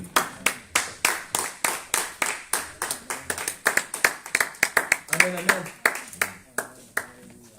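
A church congregation standing to clap in acclaim of the Lord, steady rhythmic hand claps, loud and close, repeating through the whole stretch with voices faintly underneath.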